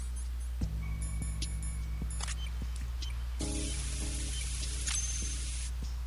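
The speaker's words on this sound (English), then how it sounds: "and now we spray the bomb" Coolant spray hissing onto a bomb in Metal Gear Solid 2, a steady broad hiss of a few seconds set against a low constant game hum and small electronic tones.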